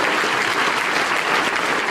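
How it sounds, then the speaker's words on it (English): A crowd at a birthday party claps in sustained, dense applause, loud and even throughout the short stretch, with no clear speech. "Let's give him a big round of applause, ladies and gentlemen."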